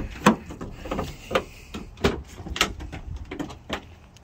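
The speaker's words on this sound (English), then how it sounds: "get some doors open." Car doors are being opened, giving a string of sharp latch clicks and thuds spaced about every half second to a second, close by and with no talking.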